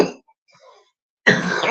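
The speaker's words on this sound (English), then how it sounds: "I don't put it on mute when I'm coughing." Someone coughing and clearing their throat during an MMA breakdown show, a brief rasp at the start, a pause, then a louder, rough throat-clearing burst near the microphone.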